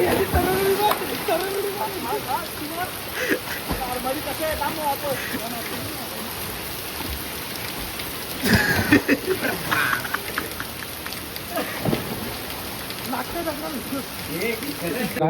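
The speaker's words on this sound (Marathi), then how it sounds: "आता पाऊस झालाय" Steady rain patters continuously on surfaces, a dense hiss of drops with occasional louder splashes, while muffled voices murmur faintly in the background.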